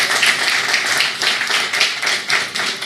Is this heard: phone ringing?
no